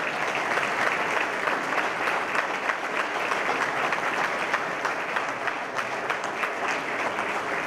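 A steady round of applause from a jazz and blues tribute audience welcomes an honoree, dense clapping holding at an even level throughout with no voices rising above it.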